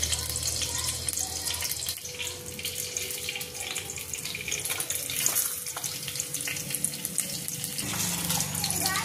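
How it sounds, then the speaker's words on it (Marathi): Mustard seeds tempering in a generous amount of hot oil for a grandmother-style ambadi (sorrel leaf) bhaji, giving a steady close sizzle and crackle that carries on with a few clinks throughout. "आता याला फोडणी द्यायची आहे."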